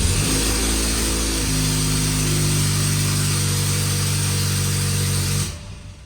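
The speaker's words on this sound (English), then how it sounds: "that turbo sounds pretty broken in there" A car engine with a broken turbocharger runs loud and close, a harsh droning whine with a steady buzzing tone before cutting off abruptly near the end.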